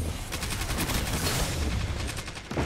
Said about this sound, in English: Could you stop shooting me?